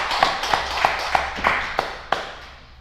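Scattered hand claps ring out inside a church, about eight sharp, evenly spaced claps from a few people rather than a full congregation, echoing in the room and fading toward the end.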